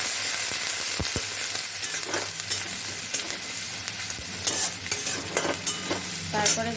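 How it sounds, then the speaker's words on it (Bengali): Chopped onions frying in a pan, a continuous close sizzle broken by repeated scraping strokes of a spoon stirring them, with a couple of sharp knocks early on and no voices. "এই যে কুচানো পেঁয়াজ দিলাম পেঁয়াজটা একটু নাড়াচাড়া করে নেবো"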